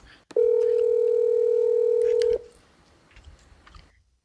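A single steady electronic telephone tone sounds for about two seconds, clear and close, then cuts off into quiet room noise.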